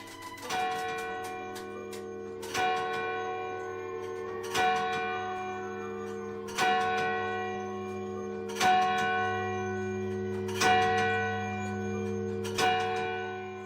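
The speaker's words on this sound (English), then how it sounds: "You can see here the weight starts to drive the chimes" A weight-driven church clock at Bampton strikes its bell in a slow, even sequence of six loud, ringing chimes about two seconds apart, each tone hanging on over a low mechanical hum.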